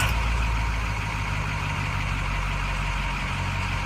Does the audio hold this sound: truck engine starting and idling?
yes